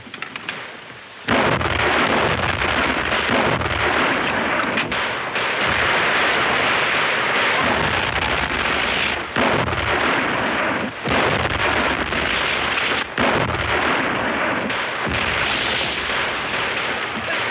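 Artillery guns fire in a desert battle scene from the 1939 film The Four Feathers. A loud, continuous thundering roar is broken by repeated heavy blasts and rumbling bursts that last the whole stretch.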